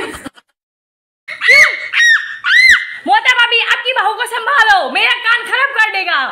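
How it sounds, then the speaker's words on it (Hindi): Loud, high shrieking and yelling in a comic Hindi TV scene, coming in repeated bursts after a brief silence and continuing as overlapping excited voices, close and harsh. "कान में मत चिल्लाओ"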